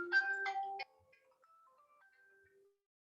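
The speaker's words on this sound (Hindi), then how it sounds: "यार सॉरी यार, मेरे ऑफिस से फोन आ गया" A phone ringtone plays a short, bright electronic melody: a few loud tones, then softer single notes that fade out into silence.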